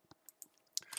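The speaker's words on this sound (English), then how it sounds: "let's introduce my keyboard because it has its own personality, because it's really loud" A loud computer keyboard clicks in a quick irregular run of sharp keystrokes, close and isolated in a quiet room.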